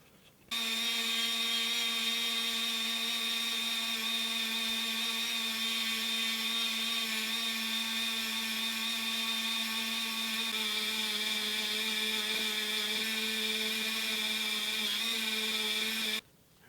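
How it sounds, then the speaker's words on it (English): A polishing wheel buffs a Hot Wheels Redline Sugar Caddy toy car during restoration, giving a steady, loud motorized whine with a high tone that runs unbroken for about fifteen seconds and then stops abruptly. "if you're looking for a good polishing wheel, that's what I'm talking about"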